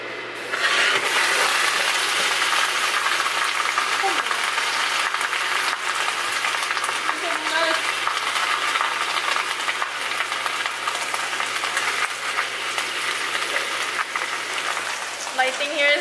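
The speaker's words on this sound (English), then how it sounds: "I'm just stir frying everything in one pan." Vegetables stir-fried together in one pan for homemade bibimbap give a steady, close sizzle with stirring scrapes throughout, with brief talk over it.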